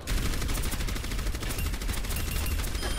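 Rapid, continuous bursts of gunfire crackle loudly throughout, dense and sustained like automatic weapons, from the character Orisa in the video game Overwatch.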